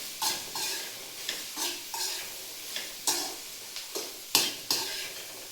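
Okra stir-fried in a pan, salted, with a spatula scraping and tossing it in regular strokes about every half second to second, producing soft sizzling bursts at moderate volume and no speech.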